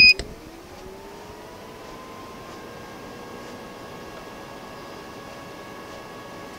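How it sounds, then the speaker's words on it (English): A sharp beep at power-up, then the quiet, steady whir of the cooling fan in a Circuit Specialists triple output bench power supply, with faint tonal hum running under the even noise. "So on power up, it does run the fan for a few seconds and you can hear it."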